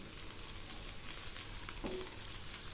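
Green chilies, salt and turmeric are stirred in a frying pan, with a quiet, continuous sizzle and a brief spatula scrape near the end.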